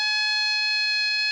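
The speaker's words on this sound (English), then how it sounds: "A siren is also used by ships or boats to warn other ships away during foggy weather. Now here's two typical ship sirens." A ship's siren, the kind used to warn other vessels in fog, sounds one loud, steady, unwavering tone with strong harmonics that holds for the whole stretch with no pause.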